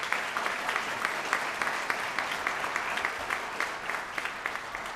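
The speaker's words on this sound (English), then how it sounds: "They deserve a hearty round of applause" Audience applause at the Gaithersburg State of the City 2013 event, steady dense clapping from a large crowd that carries on evenly through the whole stretch without voices.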